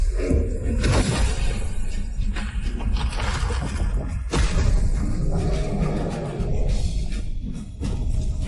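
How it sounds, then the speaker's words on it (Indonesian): A loud, dense shattering crash from a fantasy battle drama, churning with whooshes, thuds and rumbling debris that fill the scene without letup. "Hancur."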